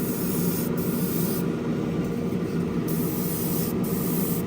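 A steady hiss of a spray gun blowing water-based steel paint onto a model car, continuous and close, with brief dips where the airflow pauses.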